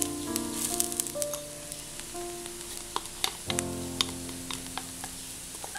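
Coconut roasts with browned ginger and onion in a pan, giving a soft, steady sizzle with occasional stirring clinks and scrapes.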